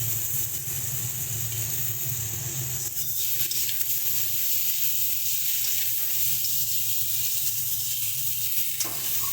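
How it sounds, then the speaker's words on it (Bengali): Chopped tomato drops into a hot pan for a dried churi fish curry with potato and eggplant, setting off a steady, close broadband sizzle that shifts and settles after a few seconds, with no talking. "এবার এর মধ্যে আগে থেকে কেটে রাখা টমেটোটা দিয়ে দিচ্ছি।"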